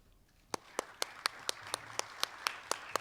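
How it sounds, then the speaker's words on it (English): Audience at a League of Women Voters candidates' forum for a school district breaks into clapping after a short quiet start, with a steady patter of hands building and continuing under sharp individual claps. "So now is the appropriate time to clap"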